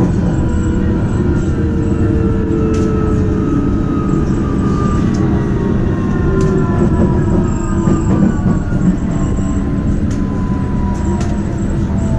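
A subway train rumbles steadily along the tracks with low, continuous roar and faint rising whine, heard from inside a carriage near Clarendon station.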